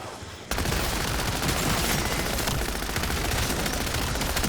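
MP40 submachine gun in a zombies video game firing in a dense, unbroken rapid-fire stream that starts after a short quiet moment and stays loud and close throughout.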